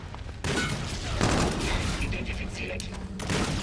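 Gunfire rattles in Call of Duty Infinite Warfare singleplayer combat: sustained rapid shots and bursts that start abruptly and stay loud and dense to the end, with a voice calling out over them.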